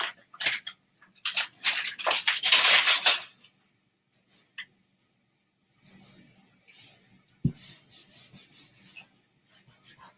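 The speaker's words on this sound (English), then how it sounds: "Now I'm just going to just rub that all in." Adhesive sheet being rubbed onto vellum paper by hand, close scratchy rasping strokes in irregular bursts separated by pauses, with brief soft talk between.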